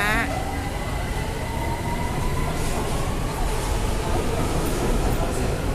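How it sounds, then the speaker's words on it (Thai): A BTS Skytrain pulls away from Siam station with a rising whine and steady rumble of wheels on rails, while a voice talks over it. "ดูรถขบวนนี้นะคะ จะออกแล้ว"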